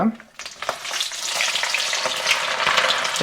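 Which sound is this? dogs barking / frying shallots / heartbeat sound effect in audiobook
frying shallots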